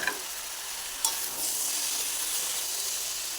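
Fried bori stirred into a sizzling pan of eggplant and drumstick flowers, with a sharp scrape at the start and again at one second, then steady close frying hiss; no talking.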